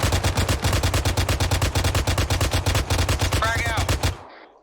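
A mounted machine gun in ArmA 3 fires one long, unbroken burst of rapid, loud, evenly spaced shots at a BTR armored vehicle, with a brief whine near the end before it stops abruptly.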